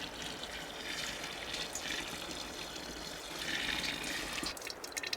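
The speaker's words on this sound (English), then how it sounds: "I'm just gonna pour this boiling water into here." Boiling water is poured into a stainless steel pot in a cold mountain winter setting, a continuous splashing trickle that swells and fades slightly, close and fairly quiet.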